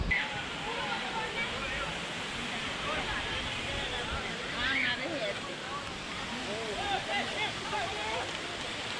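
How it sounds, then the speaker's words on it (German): A waterfall on a hike near Ella Rock in Sri Lanka rushes in a steady broadband roar throughout, with scattered voices and chatter mixed faintly into the water noise. "wir gehen jetzt hier den Wasserfall hoch"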